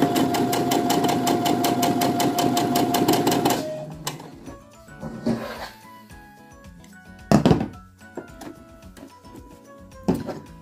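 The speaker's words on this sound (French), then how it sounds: "On va commencer par faire une couture droite." A sewing machine stitches a straight seam with a fast, even mechanical rattle for several seconds, then stops, leaving scattered thunks and clicks as the work is handled.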